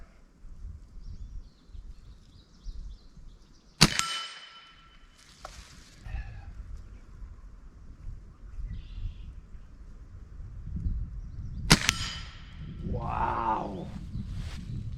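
Two sharp, loud cracks from a break-barrel pellet rifle dieseling, the pellet striking a steel plate, each followed by a brief metallic ring, set against low rumbling background noise.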